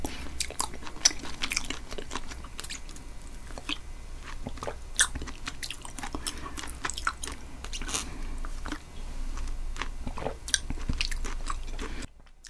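Close, wet chewing of chewy jelly pearls in milk tea, with repeated soft bites and squishy crunches, steady throughout, no talking.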